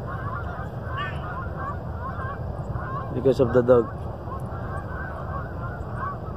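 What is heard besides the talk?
geese honking as they fly away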